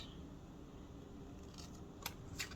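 Scissors trimming paper for a junk journal insert; two short, crisp snips come near the end over a quiet, steady room background.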